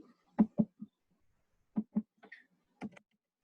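Keys tapped on a computer keyboard in a quiet room, three short bursts of two or three clicks each, spaced about a second apart, close and clear with no voice.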